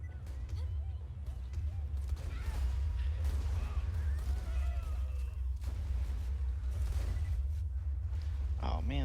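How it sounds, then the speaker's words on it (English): Sword explosions tear through enemies in Borderlands 2, a dense, steady low rumble of blasts with bursts of crashing impact noise layered on top throughout. "Oh man, the sword explosion is just destroying them."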